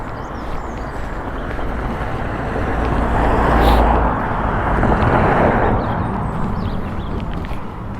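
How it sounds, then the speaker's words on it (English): A steady roar of passing road traffic in Chapmanslade, a Wiltshire village, swells and fades, with a louder vehicle going by near the middle, no voices. "it's getting a little bit noisy with the traffic going by."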